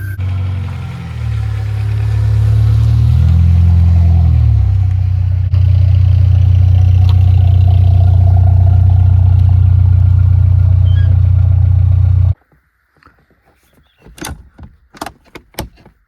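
A truck engine with an exhaust leak starts up and runs at a loud, steady, low idle for about eleven seconds, then shuts off abruptly, followed by scattered metallic clicks and taps nearby.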